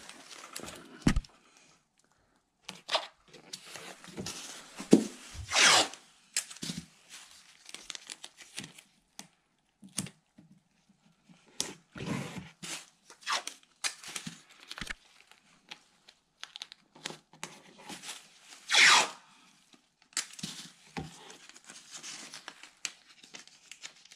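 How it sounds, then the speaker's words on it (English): Low-adhesion painter's tape pulled off the roll and pressed onto a wall beside trim while painting a room, heard as scattered close crinkling and tearing bursts with quiet gaps between them. "I actually tape it to the wall"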